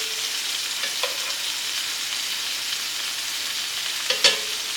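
Meats for Sunday gravy brown in a pot with a steady, close hiss of frying, broken by a few light clinks and stirring knocks and no voices.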